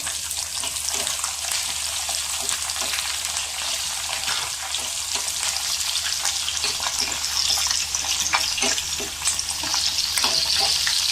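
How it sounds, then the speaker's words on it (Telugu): Green chillies sizzle in hot oil with mustard seeds in a pan, a steady, loud crackling hiss that carries on throughout with scattered pops and no voices. "ఇవి కొంచెం వేగుతూ ఉన్నప్పుడు ఆ హీట్ మీద మనం పచ్చిమిర్చి వేసేసుకున్నాం"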